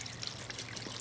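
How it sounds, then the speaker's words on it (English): Filtered tap water poured into a pot holding a reishi mushroom decoction, a brief, quiet steady trickle with no voices. "I'm going to fill this up with water."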